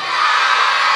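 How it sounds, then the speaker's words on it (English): British wrestling crowd at Brean Sands in 2013, a loud, close mass of voices chanting and cheering together in a short sustained roar. "They're saying yes, the crowd."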